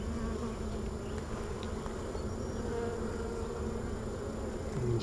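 A dense, steady drone of many honey bees buzzing close by inside a hive, a continuous hum with no talking.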